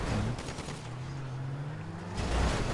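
Rapid gunfire from the video game GTA V, with a sustained burst of shots and a low mechanical hum running beneath it.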